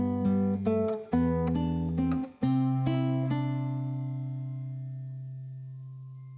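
A guitar plays the fifth measure of Jesu, Joy of Man's Desiring, a quick run of plucked notes over sustained bass, close and clear, ending on a chord that rings and slowly fades, without any talking.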